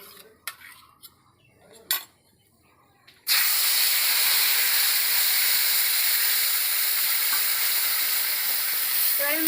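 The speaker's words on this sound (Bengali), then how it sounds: "এবার আমি মশলাটাকে ভালো করে কষিয়ে নেব" Spice paste of mustard and poppy seed with pointed gourd hits a hot pan: after a few clinks and knocks, a loud, steady sizzle starts abruptly and hisses on continuously, close up.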